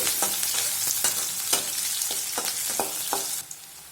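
Dry red chilli fries in oil in a pan, with a steady close sizzle broken by sharp stirring scrapes and clicks every half second or so, and the sizzle drops away near the end.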